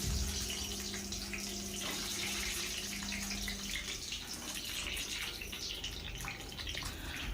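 Sliced pointed gourd (potol) frying in hot mustard oil, a steady loud hiss and sizzle from close by that continues the whole time.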